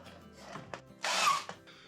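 A power drill drives screws back into the wooden fence of a box joint jig: one brief, close whirring burst between quieter workshop sounds, with no talking.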